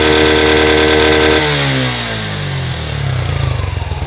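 An old Suzuki Gixxer motorcycle engine revs hard at close range, holding a loud, high steady tone before dropping and then climbing again in a pulsing throttle sweep.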